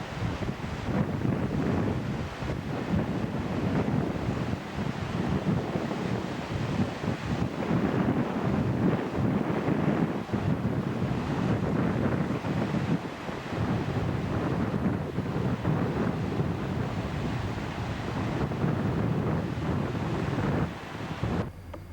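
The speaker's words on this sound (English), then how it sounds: "This is what one of the beaches look like on Prince Edward Island." Wind and surf on a Prince Edward Island beach make a steady, loud, broadband roar that continues for the whole stretch with no voices.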